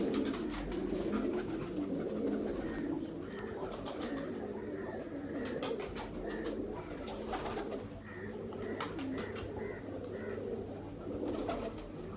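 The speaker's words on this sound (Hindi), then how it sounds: "बड़े शानदार कबूतर हैं।" Soft, repeated cooing of pigeons over a low background murmur, several birds calling in overlapping, rolling phrases.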